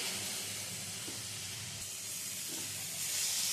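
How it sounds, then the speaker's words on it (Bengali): A steady, fairly faint frying hiss with some stirring comes from a pan of elephant foot yam stalks being sautéed with poppy seed paste in a traditional Bengali dish. "সব ভালো করে মিশিয়ে একটু কষিয়ে নিতে হবে।"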